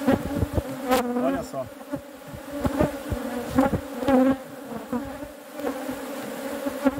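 Honeybees buzz in a dense, steady hum at an opened beehive while a second honey super is checked and placed, with sharp clicks of handling and a brief spoken word.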